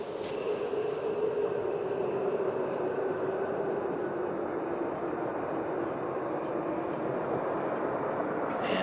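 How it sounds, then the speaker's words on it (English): Space Shuttle Endeavour rolling out on runway 15 at Kennedy Space Center after touchdown, a distant, steady low roar of the orbiter decelerating, continuous and faint throughout. "Space Shuttle Endeavour is rolling out on runway 15 at the Kennedy Space Center."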